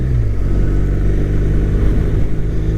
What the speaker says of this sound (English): Man, listen to that bike, man.